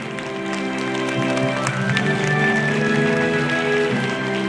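Applause from the audience at a women's peace conference, a steady patter of many hands heard beneath sustained musical tones, fairly loud and continuous throughout.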